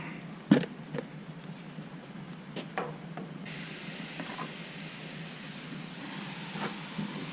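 Pork steak placed on a hot grill, a thump followed by a steady hiss that swells into a broad, continuous sizzle, with a few light clanks and knocks from handling.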